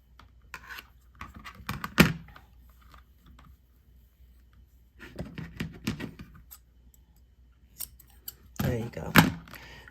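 Scissors snip leftover recycled denim fabric in three close bursts of crisp cuts, separated by quiet pauses with light handling rustle.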